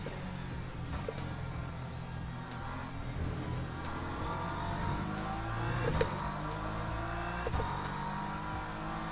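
Hypercars race in a sim racing game, a continuous blend of engine whine and revving with passing cars and occasional tire noise, moderately loud and steady throughout.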